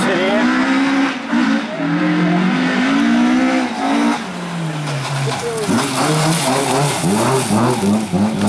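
Volvo 242 race car at a Norwegian hill climb in Vikersund accelerating hard, its engine note rising and falling through gear changes with possible tire squeal, loud and continuous under a commentator's talk.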